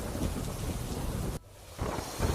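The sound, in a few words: heavy monsoon rain with thunder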